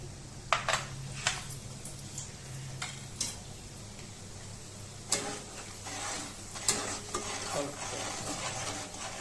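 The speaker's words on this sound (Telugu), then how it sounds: "అన్నీ వేసి కలుపుకోవాలి." Ground cumin, mustard, fenugreek and garam masala powders are mixed in a pan for chicken pickle, with a soft sizzle underneath and intermittent sharp utensil clicks and scrapes.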